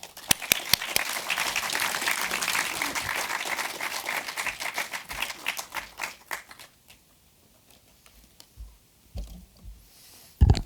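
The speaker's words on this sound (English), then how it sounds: "So please, a big round of applause and welcome to Paul Chaat Smith." An audience applauds to welcome a speaker to the stage, a dense burst of clapping with scattered sharp claps that fades out after several seconds, followed by a few isolated taps and near silence.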